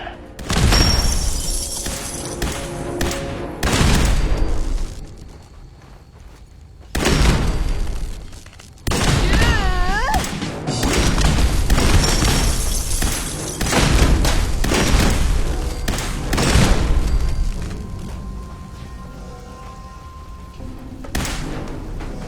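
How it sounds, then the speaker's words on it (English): Explosions in the video game Fallout 4: several loud booming blasts with shattering, crashing debris, arriving in separate bursts with brief quieter gaps between them. "Who doesn't love a good explosion?"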